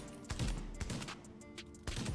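Gunfire in the Xbox video game The Division, in the Dark Zone: a handful of muffled, heavy shots with boomy low thumps over a soft background rumble, fairly quiet and with no talking.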